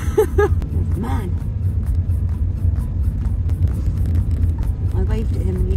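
A car driven on a narrow road in Portugal rumbles steadily from inside the cabin, a constant low engine and road drone with someone speaking over it at times.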